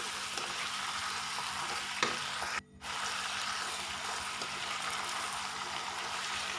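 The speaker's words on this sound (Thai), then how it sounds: "ผัดพอให้ผักยุบนะคะ ไม่ต้องผัดนานเดี๋ยวจะไม่อร่อยนะคะ" Cabbage stir-fried in a hot pan with sugar, a steady loud sizzle and hiss with occasional scrapes of the spatula, interrupted by one brief silent gap, no speech.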